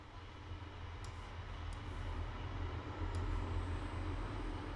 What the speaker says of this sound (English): that's a train you can hear now